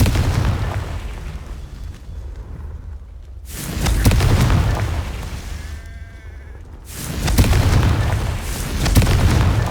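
Confringo blasting spells explode in Hogwarts Legacy, loud booming blasts with crackling debris, three heavy bursts separated by short near-silent gaps, no talk.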